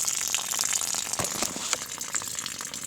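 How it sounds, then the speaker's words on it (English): Water hisses and sprays from a leaking hot water pipe in an old house, a steady close rushing gush with a few sharper spurts. "Put the fucking cap on so it stops leaking momentarily."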